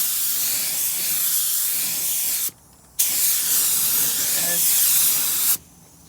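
A spray gun lays down clearcoat in two long, loud, close hissing bursts, each cut off abruptly, with a short quiet break between them.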